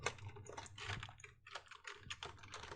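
Rapid, uneven clatter of keys on a computer keyboard at a command prompt, close and fairly quiet, continuous bursts of keystrokes with short pauses and no voices.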